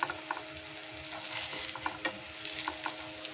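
Egg and loroco patties fry in a pan with a continuous soft sizzle, broken by a few light scraping and clicking sounds from a utensil. No one speaks.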